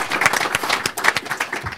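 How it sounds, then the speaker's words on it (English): A room of guests at a congressional breakfast claps in a brief, dense burst of applause for march organizers, many hands striking at once without voices. "they deserve a round of applause"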